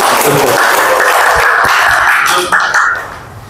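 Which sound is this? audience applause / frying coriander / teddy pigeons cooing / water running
audience applause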